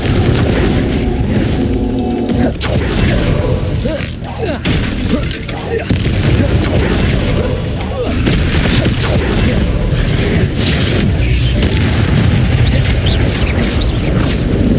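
Explosive Confringo spell blasts in the video game Hogwarts Legacy, heard as repeated loud booms and bursts among dense combat noise that fills the whole stretch.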